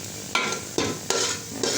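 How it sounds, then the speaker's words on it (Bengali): Onions for biryani fry in hot oil as spices are added, a steady close sizzle broken by four sharp stirring scrapes at regular intervals, with no voices. "পেঁয়াজগুলো ভাজা ভাজা হয়ে গেছে, এখন দিয়ে দিব সব"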